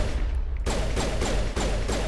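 A shotgun fired in Mass Effect: four or five loud blasts in quick succession at a steady, rapid rhythm over a constant low background.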